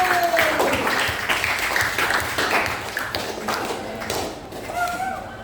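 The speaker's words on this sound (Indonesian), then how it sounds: "Tepuk tangan untuk Bapak." Classroom applause for a visiting teacher during a lesson on globalisation, with students clapping in a scattered, uneven patter throughout, voices and bits of chatter mixed in.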